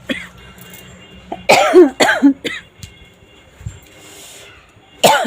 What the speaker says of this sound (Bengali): কাশি হচ্ছে বড্ড